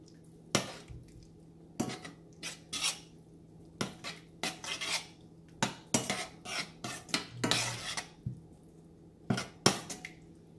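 A spoon stirs coconut milk into lime pickle in a pan over a low flame, giving irregular metallic clinks and scrapes against the pan in uneven bursts, close by with no voices.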